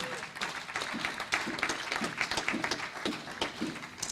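A church congregation claps together in steady rhythmic applause, moderately close and sustained throughout, with a faint murmur of voices mixed into the clapping.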